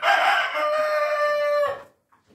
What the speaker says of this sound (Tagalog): rooster natin. Yan, Rhode Island.